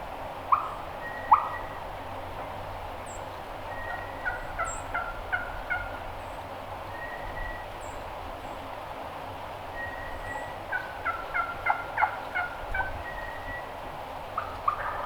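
A wild turkey gobbler on public land gobbles in repeated bursts at a moderate distance, several rattling calls spread across a quiet outdoor backdrop.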